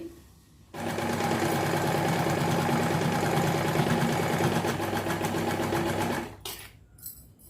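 A sewing machine stitches a fabric patti in one loud, steady, rapid run lasting about six seconds, then stops, leaving a few faint handling sounds.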